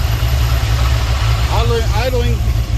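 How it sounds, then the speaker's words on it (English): A Dodge Sweptline pickup truck engine fitted with a Holley carburetor idles steadily with a loud, low rumble throughout, while someone talks over it partway through. "Well, it is idling"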